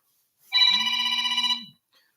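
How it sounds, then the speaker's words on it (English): A single electronic telephone ring sounds once, a bright buzzing tone held for about a second against silence, clear and close. "The telephone is ringing."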